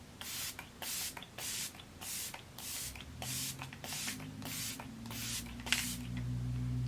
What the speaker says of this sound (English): I'm gonna set my face with the e.l.f. setting spray really quick.